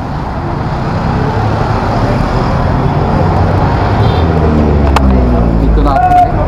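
Steady road traffic rumbles near Dagadusheth Halwai Ganapati Temple in Pune, with a constant wash of engine noise and one vehicle swelling louder as it passes close by toward the end.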